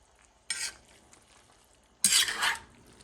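Two bursts of stirring in a pot of black-eyed peas and collard greens with broth, a short scrape then a longer, louder wet churn, close up with quiet between them.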